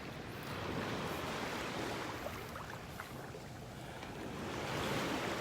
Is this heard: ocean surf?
yes